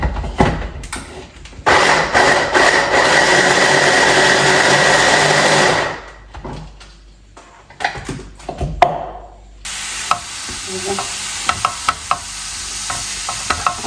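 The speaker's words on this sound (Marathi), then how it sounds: "स्वच्छ धुवून झाल्याच्या नंतर मग थोडं थोडं पीसेस मध्ये कट करून ग्राइंड करते." A mixer grinder whirs loudly for several seconds as it grinds chopped cabbage, stops, then briefly restarts with a few rattling bursts, captured up close.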